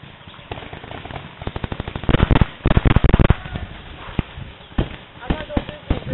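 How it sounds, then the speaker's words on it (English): Paintball markers fire during an outdoor paintball game, in rapid irregular bursts of sharp pops, some close and loud, others in quick strings, with quieter stretches in between. "I'm making fire on both sides now."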